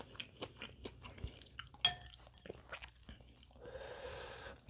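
Spicy Ottogi collaboration ramen eaten with kimchi, heard as close, quiet chewing with soft crunches and slurpy squishes in an irregular rhythm, plus a faint clink near the end.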